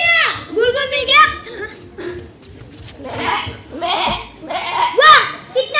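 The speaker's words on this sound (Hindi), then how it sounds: "ये तो एक बकरी है।" Goat bleating in a few wavering, nasal calls spread across several seconds, mixed with people talking and some chuckling nearby.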